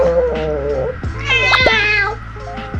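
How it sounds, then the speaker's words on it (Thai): A hungry female cat gives a few loud, close meows, rising and wavering in pitch, with a voice and some handling noise around them. "เมโกะก็เป็นแมวเพศเมียทำมันแล้วค่ะ ตอนนี้กำลังร้อง ร้องไห้ หิวข้าว"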